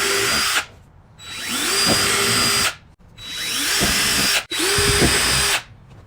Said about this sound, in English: So we're going to just drill our pilot holes